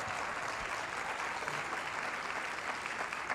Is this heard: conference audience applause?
yes